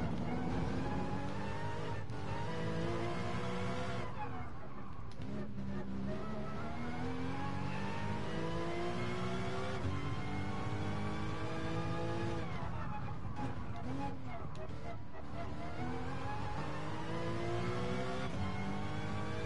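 A Porsche Cayman GT4 engine in a Nürburgring Nordschleife racing video game, a continuous loud rev that climbs and drops through repeated gear changes and cornering over about twenty seconds, with faint talk underneath.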